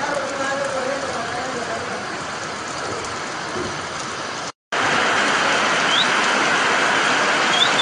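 Heavy rain from storm Nana pours down on Roatan, Honduras, a dense, continuous hiss of drops hitting surfaces that cuts out for a split second before resuming just as steadily.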